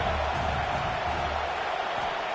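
A football stadium crowd roars on a third down, a broad, constant wall of cheering noise with no breaks, heard from within the stands.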